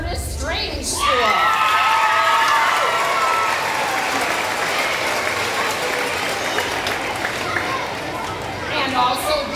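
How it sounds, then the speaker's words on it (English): A school audience at an elementary Battle of the Books event applauds a team, with a steady roar of clapping and cheering mixed with children's shouts and crowd chatter, briefly led by a voice at the start. "Let's applaud Curtis Strange School."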